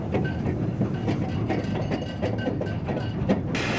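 Miniature park railway train at Maltanka in Poznań running along its tracks, a steady close rolling rumble with rhythmic clickety-clack of wheels over rail joints throughout, no talking.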